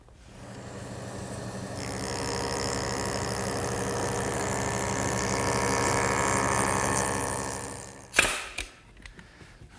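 A jointer bevels the back edge of a wooden stool tread for a Shaker step stool, the motor humming steadily as the board passes the cutter, then winding down with a few clunks near the end.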